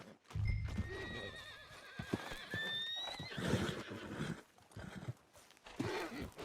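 A horse in Red Dead Redemption 2 lets out a loud, wavering neigh while hooves clip-clop nearby, followed by snorts and more hoofbeats.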